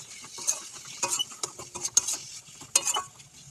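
Ground turmeric, chili, coriander and cumin powders being stirred in a pan, a close run of light scraping and tapping strokes with faint sizzling underneath.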